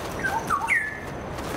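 A bird in the video game Ghost of Tsushima chirps a short run of three or four clear, bright whistled notes, the last one longer and sliding. The calls are close and sit over a quiet ambient background.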